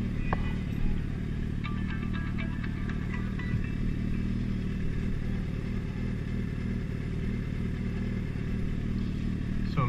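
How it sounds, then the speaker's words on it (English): A motorcycle engine idles steadily as it warms up, a continuous low mechanical rumble with faint clattering and no talk over it. "So I'm just waiting for the bike to get warm up."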